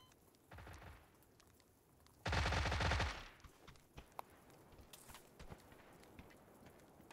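Gunfire in a PUBG custom match: a short burst of automatic shots, a pause, then a louder sustained volley lasting under a second, followed by scattered faint distant shots.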